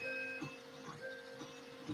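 An Adimlab 3D printer prints, its stepper motors whining in steady tones that shift pitch in short moves, with soft rhythmic clicks, close and alone.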